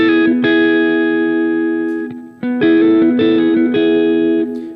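An electric guitar run through effects plays a song part, with sustained distorted chords and picked notes in two phrases separated by a brief pause, loud and clear with no talking.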